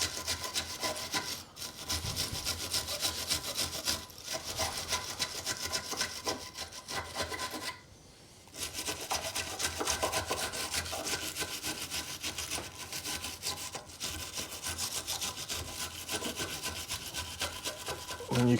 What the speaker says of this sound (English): I'm just going to give these a bit of a scrub up.